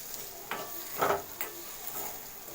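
Pepper fish curry being stirred in a pan, a few soft scraping strokes and light clatters over a quiet simmering sizzle, brief and fairly faint, with no voices.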